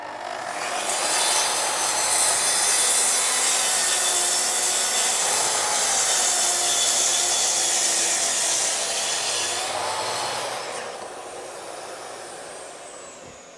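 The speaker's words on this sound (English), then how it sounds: "we're ready to trim the end away from this door using a TS55, but also the CTL SYS" A Festool TS55 plunge saw trims the end off a door while a CTL SYS extractor runs, giving a loud, steady broadband whine of cutting and suction for about ten seconds before tailing off.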